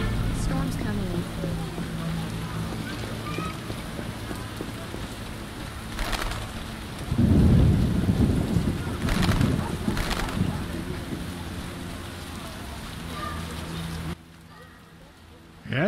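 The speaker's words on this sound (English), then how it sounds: "Storm's coming in." Steady rain patters through a stormy outdoor scene in The Witcher, with bursts of heavier rumble and crackling bands suggesting distant thunder, a few bird coos, and a sudden drop to quieter ambience near the end.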